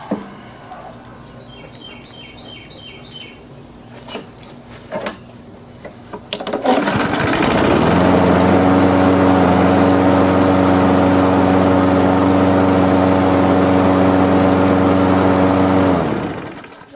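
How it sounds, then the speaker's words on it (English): A Craftsman lawn mower engine, previously running weak and dying, starts after a few seconds of quiet outdoor sounds and faint birds, then runs loud and steady with a strong droning hum until it cuts off at the end. "I'll test out this mower and see if this is the fix"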